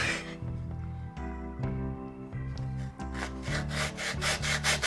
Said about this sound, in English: I'm gonna go grab the handsaw and see if it's just easier.